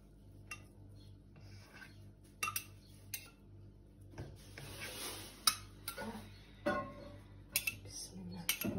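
Eggs, sugar and oil are whisked in a bowl for a cake. Close metallic clinks and scraping strokes come in irregular bursts against a quiet kitchen background.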